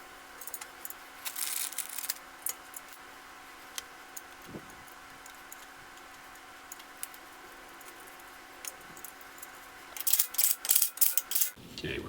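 A torque wrench tightens the dust shield bolts on a Dana 30 front axle from a 1972 International Scout, giving faint, sparse ratcheting clicks and then a louder run of quick clicks near the end, with no talking.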